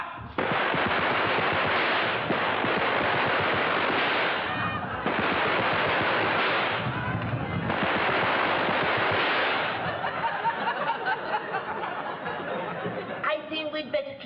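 Machine gun fire crackles in long, loud, sustained bursts during a Home Guard battle around a cottage in a wartime British comedy, with brief pauses between volleys and shouting voices mixed in.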